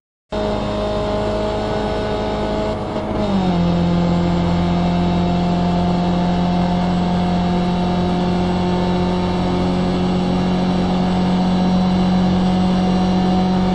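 A race car engine in the iRacing simulator at Watkins Glen holds a steady, loud tonal drone, shifting pitch once early and then sustaining an even buzzing whine to the end.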